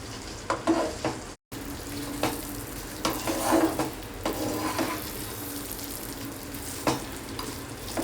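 A spoon stirs a thick traditional sweet mixture cooked with ghee and oil in a pan. Repeated scraping strokes and soft sizzling carry on close and steady throughout, with one brief dropout and no speech.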